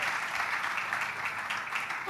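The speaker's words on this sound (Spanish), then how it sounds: "Un aplauso para la señora María y la señora Elizabeth." A church congregation applauds during an anniversary service, a dense, steady wash of clapping that holds at an even level for about two seconds, nearby and unbroken.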